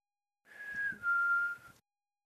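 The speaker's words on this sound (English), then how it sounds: "I'll have to keep practicing whistling with you." A person whistles two sustained, slightly falling tones, one after the other, clear and close in a quiet room for about a second and a half.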